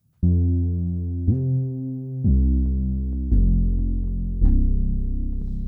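A deep, softly saturated sub bass synth plays a sequence of sustained notes, each starting with a slight attack, alone and steady.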